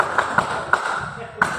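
Audience members at a corporate leadership event clap in a call-and-response routine, producing four sharp, separate claps with uneven gaps over a low murmur.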